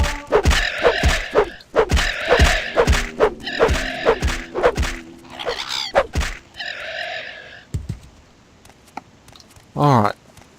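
Blunt weapon training with a staff in Morrowind: a series of hard, rhythmic thwacks and thuds close by, followed by a few grunts and scattered effects.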